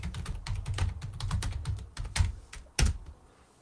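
Fast, loud clacking on a computer keyboard, with rapid bursts of keystrokes and a few sharper, heavier hits near the end during a live stream, all close up and with no talking.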